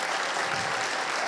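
Conference audience applauding, a dense, even wash of many hands clapping together at moderate volume, with little else audible.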